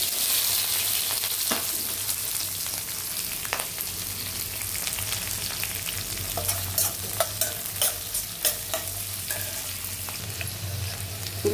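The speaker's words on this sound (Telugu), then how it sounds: "ఉల్లిపాయలు వేగిపోయినవండి." Green chillies and onions frying in oil with cumin and mustard seeds, a continuous soft sizzle broken by repeated scraping stir strokes and small pops, with no voices.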